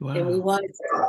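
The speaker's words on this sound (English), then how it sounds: "oops, that's my dog right there." A dog barks a couple of times in the room during a conversation, its short yelps mixed in with a person's speech.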